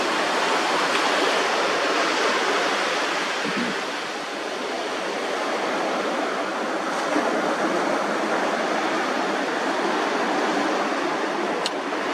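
Water washing over sand forms a broad, steady rushing wash, fairly loud and close, dipping briefly in the middle before rising again, with no voices.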